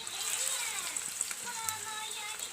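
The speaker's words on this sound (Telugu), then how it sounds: "ఆయిల్ హీట్ ఎక్కిపోయింది, అందులోని ముక్కలు వేసుకొని బాగా వేగనివ్వాలి." Fish pieces frying in hot oil, a steady soft sizzle with faint crackles and pops, quiet and continuous with no talking.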